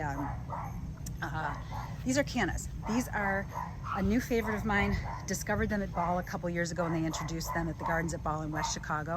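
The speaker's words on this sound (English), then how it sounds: "those dogs are out all the time and they're very yappy" Neighborhood dogs bark and yap repeatedly in the background of a sunny patio garden, high excited yips scattered throughout while someone talks steadily over them.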